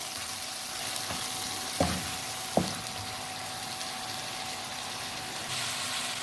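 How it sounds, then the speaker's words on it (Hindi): Chicken frying in a pan for daal murgh, a steady soft sizzle with a couple of sharp utensil clacks and stirring scrapes, heard close and alone. "चिकन को अच्छी तरह फ्राई करेंगे ताकि इसका कलर चेंज हो जाए।"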